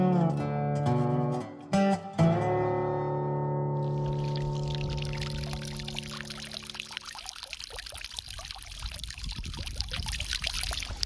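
Water flows steadily in a desert canyon, a continuous rushing and trickling wash that swells after a few bright plucked tones at the start, holding close and loud to the end.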